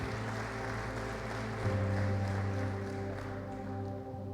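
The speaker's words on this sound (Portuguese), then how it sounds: "Aplauda Jesus mais uma vez." Church congregation applauding during a service, a soft wash of clapping over a sustained organ or keyboard chord that keeps droning underneath.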